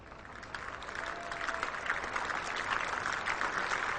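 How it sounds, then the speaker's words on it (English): A cricket crowd at the Oval applauds England reaching 100 in the 1998 Test against Sri Lanka. The warm, distant clapping swells steadily and holds for several seconds, with little talk. "warm applause from another very good crowd"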